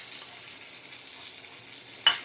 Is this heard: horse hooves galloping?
no